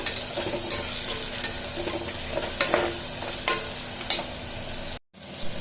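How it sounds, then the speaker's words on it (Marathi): Mutton masala with tomato and onion being stirred and sautéed in a hot pan for a Konkani-style meal, a steady close sizzle broken by repeated scraping stirs, with a brief cut to silence near the end. "छान हलवून घ्यायचं असं परतून घ्यायचं"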